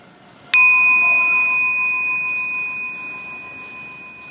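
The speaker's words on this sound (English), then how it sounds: "let's listen to the full sound of the bell from beginning to end" A singing bowl bell used for a children's mindfulness exercise is struck once, giving a clear, bright ring that sustains and slowly fades over several seconds with no talking.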